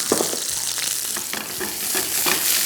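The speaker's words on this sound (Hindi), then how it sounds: "सबसे पहले सॉसेजेस को हम फ्राई करेंगे।" Scored sausages fry in a little oil for a full English breakfast, a close, steady sizzle broken by repeated scraping and tapping as they are turned in the pan.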